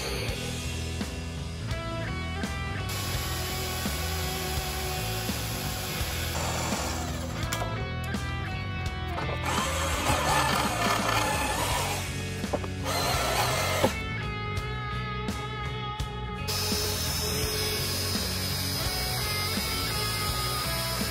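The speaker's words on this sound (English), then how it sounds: "I'm using a magnetic drill" A magnetic drill bores holes in metal during a linear guide install, its motor whining and grinding in long stretches with brief pauses and pitch shifts between cuts, close and fairly loud.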